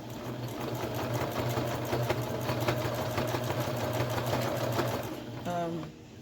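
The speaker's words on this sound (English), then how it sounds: "I'm just sewing the baby's blanket." A sewing machine runs steadily while stitching a baby blanket, its close, continuous mechanical whir holding for about five seconds before stopping, with a voice faintly present.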